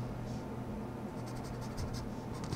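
Ballpoint pen scratching across paper in short, quick strokes while working a control-systems exercise, close and steady against a constant background hiss.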